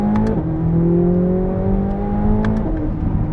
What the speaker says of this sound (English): Sorry, I interrupted myself with that flat plane crank V8.